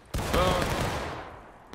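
A volley of muskets fires together on command at a reenactment event, one loud sharp blast that rolls off in a long fading echo.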